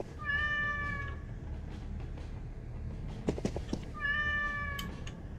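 A cat in a video game gives two clear meows, one at the start and one near the end, over a steady low rumble with a few soft taps in between.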